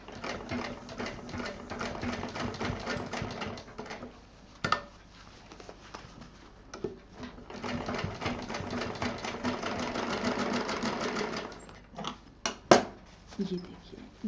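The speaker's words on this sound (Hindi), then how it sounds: "गुलाई से जो जोड़ है उसी पे मशीन चलानी है खूब बारीकी के साथ और खूब सफाई के साथ।" Sewing machine stitching along the curved joint of a homemade fabric tiffin case, steady whirring runs in bursts with short pauses and a few sharp clicks.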